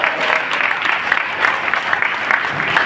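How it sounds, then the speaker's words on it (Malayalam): Church congregation at Sunday worship breaking into sustained applause, a dense steady clapping that fills the room throughout. "ഒരു നല്ല കൈയടിച്ച് ദൈവത്തെ മാത്രം കൊടുക്കും"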